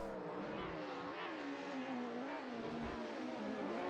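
Several DTM race cars, BMWs and a Mercedes, roaring steadily through a racing video game at Hockenheimring, a continuous engine drone with shifting pitch and no talk.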